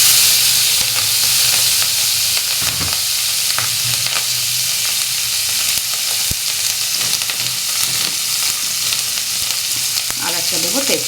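Green chilies fry in hot oil for a Bengali fish curry, giving a loud, steady sizzle and hiss that runs without a break, with a few soft stirring scrapes near the end.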